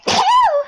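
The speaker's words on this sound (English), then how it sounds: "Come on, that was a sneeze." A single short, sharp sneeze bursts out close and loud, ending with a brief voiced trailing tone, during a Minecraft survival gaming session.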